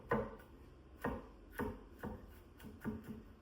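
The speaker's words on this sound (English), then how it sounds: "I'm just going to rock it back and forth, and that makes it easier to mince that garlic" A knife rocks back and forth on a board mincing garlic, producing soft, regular chopping taps roughly every half second, close and quiet with no talk.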